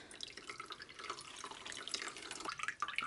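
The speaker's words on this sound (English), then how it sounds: "So I poured the cashew milk into the nut milk bag, and I have a container here. I'm gonna squeeze it out." Cashew milk squeezed by hand through a nut milk bag into a container, a steady trickling and dripping of liquid with small splashes, fairly close and continuous, no talk.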